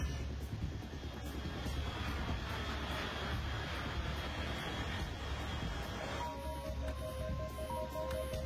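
Aircraft engine drone in a video game, a steady broad roar held at an even level throughout, with electronic tones and beeps appearing in the final seconds.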